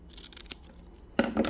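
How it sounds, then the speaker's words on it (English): Scissors cut through excess woven material in a nature-inspired weaving, a soft snip followed by a louder, crisp crunching cut, close and with no speech. "I'm going to kind of cut it"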